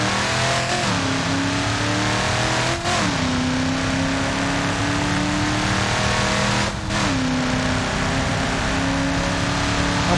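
A modded drag car in BeamNG.Drive accelerates with a loud, continuous engine roar whose pitch climbs through the gears, broken by a couple of brief dips at the shifts.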